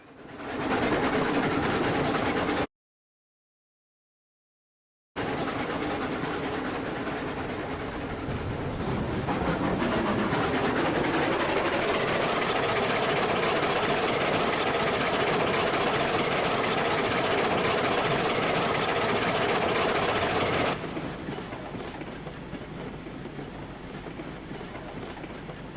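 A passenger train in the railroad game Railroads Online rumbles past with steady clickety-clack wheel noise and engine drone, loud and close, swelling as it passes, with a brief gap early on and no talking.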